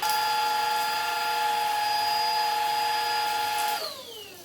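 Cordless stick vacuum cleaner, a Dyson V10 or Dibea, running with a loud steady motor whine and high tonal hum that winds down in pitch near the end as it powers off.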